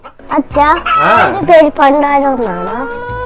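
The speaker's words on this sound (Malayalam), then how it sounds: "പണ്ടാരം കോഴിയെ കൊണ്ട് ഭയങ്കര ശല്യമായിരിക്കുവാണല്ലോ." A chicken clucks and crows loudly at close range in a few drawn-out, wavering calls that fill the whole stretch.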